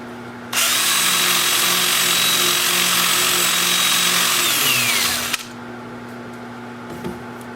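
A wood lathe whirs loudly and steadily for several seconds while sanding a wood turning, then winds down and stops, leaving a quieter room.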